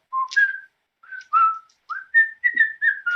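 A person whistling a Western-style tune, a sequence of clear short notes and slides in bright melodic phrases, close and alone.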